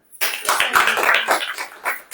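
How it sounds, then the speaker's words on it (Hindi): A church congregation claps hands together in a dense burst of applause, fairly close and loud, lasting about two seconds after a short silence. "ताली बजाइए।"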